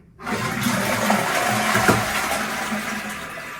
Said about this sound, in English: There you go, New Orleans Marriott toilet flush for you.